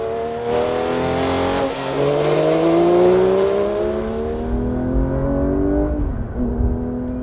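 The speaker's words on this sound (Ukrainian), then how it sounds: "Двигун це 4-літровий шестициліндровий РС із потужністю 518 кінських сил" A Porsche 911 S/T with a four-litre six-cylinder engine revs hard, its pitch climbing smoothly through a long pull, dipping at a shift and rising again, loud and close with no voices.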